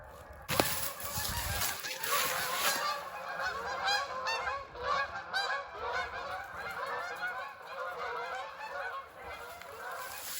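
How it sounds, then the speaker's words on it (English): A large flock of geese honks continuously and loudly in the open outdoors on a freezing snowy morning, dense overlapping calls with wing flapping beneath, no talk. "So many geese."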